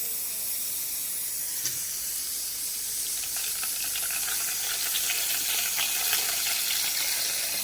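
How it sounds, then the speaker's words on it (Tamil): Fennel seeds and curry leaves sizzle in hot groundnut oil in a pan, a constant close hiss with crackly spatters that grow slightly busier toward the end. "கொஞ்சம் ஆயில் ஊற்றிக்கலாம், கடலெண்ணெய், அப்புறம் அதில் சோம்பு சேர்த்துக்கலாம்."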